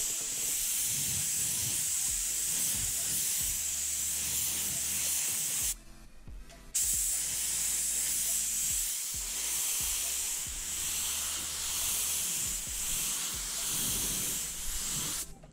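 A spray gun dusts base coat paint onto a car panel being blended into the surrounding areas, a steady close hiss running nearly continuously with one brief pause midway.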